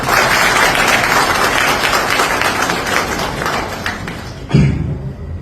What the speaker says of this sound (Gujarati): તમે છે ને મારા વતી એ બધા અધિકારીઓને તાળીઓથી બજાવો